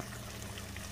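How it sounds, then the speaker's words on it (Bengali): Bowl-rinsing water pours into a doi ilish curry in a short, faint, steady splashing stream with no break. "এবার এই জলটা দিয়ে দেবো,"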